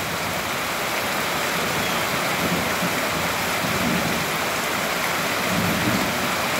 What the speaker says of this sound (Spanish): está lloviendo bien bonito